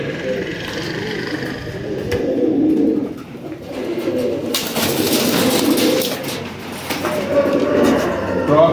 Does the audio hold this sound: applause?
no